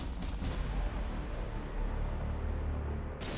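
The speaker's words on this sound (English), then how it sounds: "Let's fire those melter torpedoes as well." Melter torpedoes fired in the space strategy game Battlefleet Gothic Armada II, heard as a dense, continuous rumbling roar with heavy booming low end and a couple of brief sharper bursts, loud and without speech.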